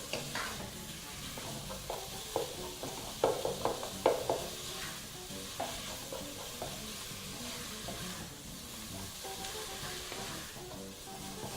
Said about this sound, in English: some nice browning going on there